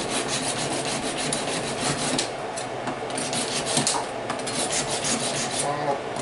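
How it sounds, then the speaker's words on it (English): A blade scrapes against a sharpening tool in a kitchen, a continuous close rasping, rubbing grind with uneven strokes and no pauses, filling the whole stretch. "Let's go get my sharpening tool"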